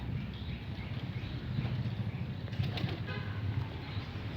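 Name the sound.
racing pigeons flapping wings on release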